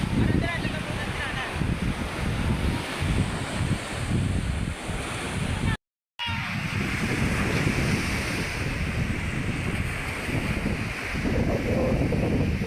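Constant sea waves and wind roar along the shore in Aurora, with heavy wind buffeting the microphone and surf rumbling continuously apart from one brief dropout midway.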